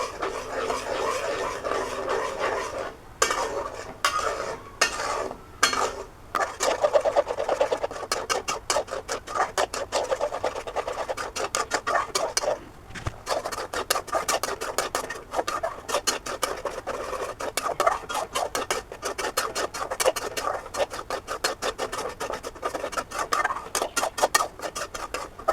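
Mustard paste is sautéed and stirred in a pan, with close, continuous rasping scrapes from a spatula in quick, repeated strokes.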